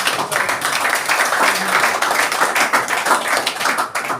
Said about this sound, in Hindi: स्वागत है जबरदस्त तालियों के साथ साथ